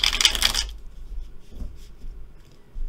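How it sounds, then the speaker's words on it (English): A deck of Klimt tarot cards is shuffled in a quick, crisp riffle for about half a second, followed by softer handling and card rustling close by. "Let's shuffle these up. I'm tuning into you as I'm shuffling."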